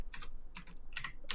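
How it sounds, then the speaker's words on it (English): Fast, furious typing on a computer keyboard, four quick bursts of clattering keystrokes, close and clear with no voices. "I can hear you furiously typing away"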